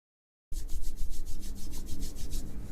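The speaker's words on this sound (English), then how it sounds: "Do you hear it? I'm rubbing my tummy." A hand rubs steadily across a belly, making a close, loud, rhythmic swishing friction sound that starts abruptly and continues without pause, with no talking.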